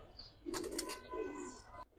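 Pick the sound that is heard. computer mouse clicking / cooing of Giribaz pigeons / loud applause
cooing of Giribaz pigeons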